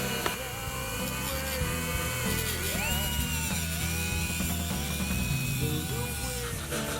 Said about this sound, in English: the chrome needs to be sanded down so we can prepare these for green paint